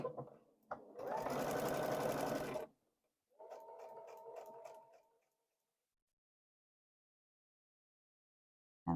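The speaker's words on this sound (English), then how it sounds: "So I'm sewing right on the line" A sewing machine stitches a paper-pieced kite quilt block in two close runs: a loud, steady burst of about two seconds, a short pause, then a softer, slower run that eases off and stops, followed by quiet.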